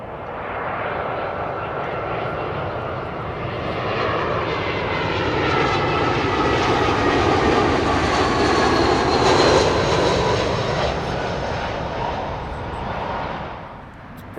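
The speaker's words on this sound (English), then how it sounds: "It's the British Airways A320 coming in from Edinburgh." A British Airways Airbus A320 from Edinburgh lands at London Heathrow, its jet roar rising and falling with a whining engine tone as it passes close, then fading.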